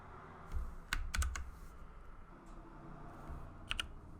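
A few crisp key clicks on a Logitech G512 Carbon keyboard, a quick cluster of taps followed by a lone click later, close and quiet against a soft room hum.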